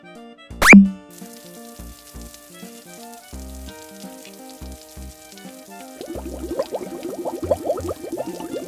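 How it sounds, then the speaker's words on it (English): Water running and splashing over hands in a toy-like setting, a steady trickling wash that rises in the last few seconds alongside soft musical tones, with a brief louder splash near the start. "While waiting, I wash my hand first."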